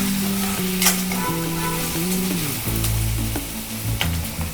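Onion frying in a pan for a Kolhapuri sprouted moth bean usal, stirred steadily with a spatula while it sizzles throughout, with scraping strokes and occasional clinks. No one speaks.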